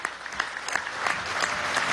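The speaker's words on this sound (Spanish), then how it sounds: "Un aplauso a María Leonza." A crowd at a televised presidential broadcast applauds steadily, a dense, even wash of clapping that holds at a moderate level throughout.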